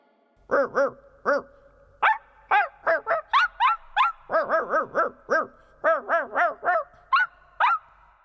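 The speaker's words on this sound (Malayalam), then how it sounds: "വഴിയിൽ നിറയെ തെരുവ് നായ്ക്കൾ." Stray dogs on a street barking repeatedly in quick irregular bursts, loud and close, some yips and whimpering tones among the barks, with no talk over them.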